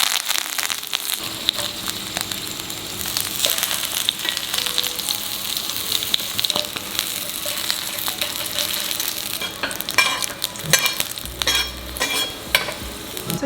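Garlic and herbs sizzle in hot oil in a pan, a loud continuous crackling hiss that lasts throughout, with scattered pops and a few stirring scrapes, close up and with no speech.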